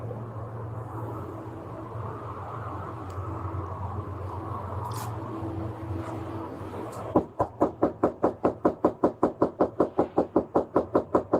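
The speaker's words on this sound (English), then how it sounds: "Just look at how many times they have to knock." Rapid, sharp knocks on a door, about twenty evenly spaced raps in a steady rhythm, loud and close over a low room hum, starting after several seconds of quiet background.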